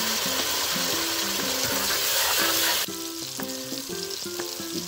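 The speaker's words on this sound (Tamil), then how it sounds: "இப்போ எண்ணெய் பட்டரும் சூடாகிட்டு அதோட வெங்காயத்தை சேர்க்கிறேன்" Onions frying in hot oil and butter, a dense, steady sizzle that drops somewhat in level partway through, heard close under a continuous backing of music with no talking.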